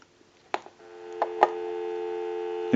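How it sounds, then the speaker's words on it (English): A steady dial tone hums after a few clicks and clunks of a Microtel 202 telephone handset being picked up, ending with a louder burst at the close. "So we'll go ahead and give you some dial tone,"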